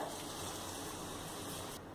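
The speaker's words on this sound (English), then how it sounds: "So next add 2 cups of water." Water gushes steadily as it is poured into a pan of butter chicken gravy, a brief, even rushing pour that stops near the end.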